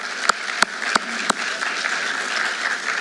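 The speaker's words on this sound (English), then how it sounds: "So a round of applause for our parents" Applause at a school awards ceremony honoring parents and families: a full, steady crowd wash with a few sharp, louder claps standing out near the start.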